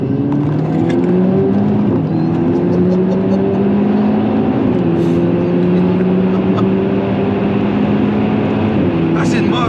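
A 320bhp Audi S3 8P accelerates hard, its engine note climbing steadily and loud throughout with rising harmonic tones, heard from inside the car with voices talking over it.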